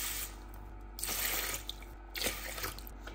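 Water runs into a microwave-safe cooking pot to boil rice, in two short close pours of about half a second each, separated by a brief pause.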